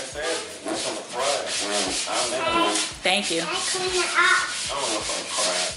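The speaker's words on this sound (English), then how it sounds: "You sanding the wall for me?" A wall is sanded by hand before a coat of chalk paint, making continuous close rubbing and scraping strokes in an uneven rhythm, with a brief spoken word partway through.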